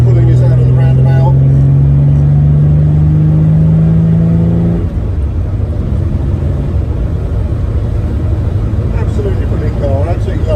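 A 1959 Jaguar XK150 fixed-head coupé's 3.4 litre engine pulls hard out of a roundabout, a loud close rumble rising steadily in pitch before an upshift, then droning on at a lower note.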